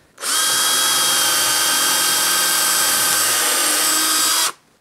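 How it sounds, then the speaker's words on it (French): A power drill bores a 4 mm hole for a workbench press handwheel, giving one loud, steady whine that runs unbroken for about four seconds with no talking. "Je perce à 4 mm."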